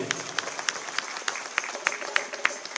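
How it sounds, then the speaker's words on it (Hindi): Audience at a Gopashtami public event in Jaipur clapping for the mothers and sisters, a sparse, steady patter of hand claps with sharper individual claps standing out. "बहनों के लिए भी ताली बजा दीजिए"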